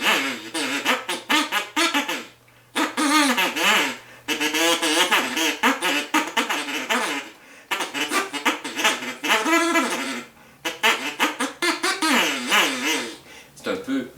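A duck call lure blown to mimic a quacking duck gives loud, nasal, rasping quacks in long rapid runs, broken by a few brief pauses.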